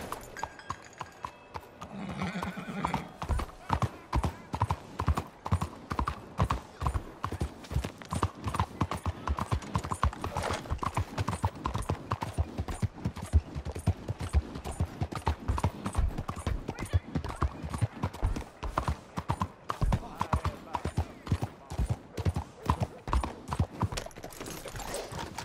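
Horse hooves clip-clop in a steady, rapid galloping rhythm throughout, close and loud, in the Red Dead Redemption 2 video game, with a brief neigh and a few short voice bits over the hoofbeats.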